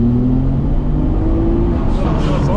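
A 500 hp Nissan Skyline GTR at full throttle from 4,000 rpm on a street pull, a loud, close engine roar with a steady rising drone filling the cabin, and a voice briefly heard over it.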